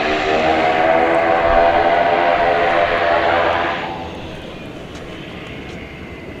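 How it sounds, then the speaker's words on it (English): A single-engine Martinair Cessna at DFW Airport, a steady droning propeller engine with a buzzing harmonic hum that is fairly loud at first, then fades to a quieter distant rumble. "or at least one of these Martinair Cessnas, single engine plane"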